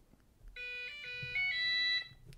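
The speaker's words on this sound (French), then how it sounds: "Localiser le robot. Donc il fait une jolie petite sonnerie" A bright electronic chime from an Ultenic DS5 Pro robot vacuum's locator function plays a short melodic sequence of tones for about a second and a half, clear and close, over a quiet background.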